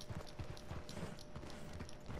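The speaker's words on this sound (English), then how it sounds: "My horse is going so slow right now." A horse's hooves clip-clop in a steady, quick rhythm in the video game Red Dead Redemption, faint and close, with no talking.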